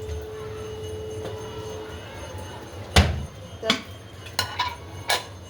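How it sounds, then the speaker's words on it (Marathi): A green-pea curry kadhai is set on the stove to heat, producing a few sharp metallic clanks and knocks of the pan against the burner, one loud hit followed by several lighter taps. "कढई तापाला ठेवली"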